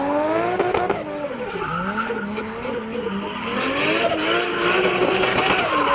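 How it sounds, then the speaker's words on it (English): Toyota Cressida drift car sliding into a turn on a track, its engine droning and revving with loud continuous tire squeal, near and sustained, without speech. "Nice drift and angle coming into turn"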